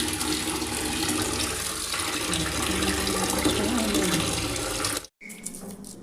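Fish being washed by hand in a basin of water, a steady close splashing and running-water wash that continues for about five seconds before stopping abruptly, with a brief faint clink after.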